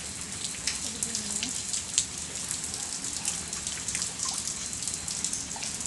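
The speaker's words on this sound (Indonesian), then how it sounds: "Ini rintik-rintikan hujan ya. Seperti ini." Light drizzle patters steadily outdoors during a test of a waterproof taro-leaf jacket, a soft continuous hiss of raindrops with scattered close drips and a faint murmur underneath.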